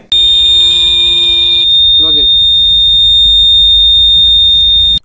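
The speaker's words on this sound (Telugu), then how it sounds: "ఇది కాకుండా మనకి అలారం సౌండ్ కూడా ఉంది," A loud, piercing electronic side-stand alarm buzzer on a 2025 TVS XL100 Heavy Duty scooter sounds continuously at a steady high pitch, close by, with a brief voice-like murmur partway through.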